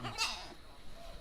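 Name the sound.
Malabari cross goat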